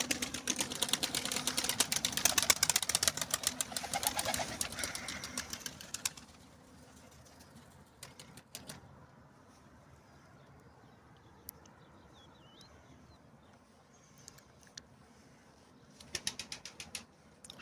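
Pigeons stir in a coop as a male bursts up with a loud clatter of flapping wings, then the flock settles into quiet with a few scattered flutters and a final flurry of wingbeats.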